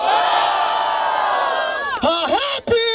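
At a rap battle in Barueri, São Paulo, a crowd roars and whoops loudly, a sustained wave of cheering with shouted voices rising through it.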